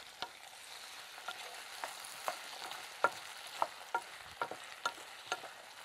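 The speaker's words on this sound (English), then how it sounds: "we can add the diced swede and the potato, and we can cook and stir for about 5 minutes" Diced swede and potato stir-frying with golden onions in a pan, a steady soft sizzle broken by a series of distinct spoon scrapes and taps against the pan, close and fairly quiet.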